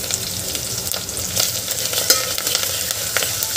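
Onion, ginger and garlic paste frying in a pan for Maharashtrian masale bhat, a loud crackling sizzle broken by repeated scraping and clattering of a spoon stirring, no voices.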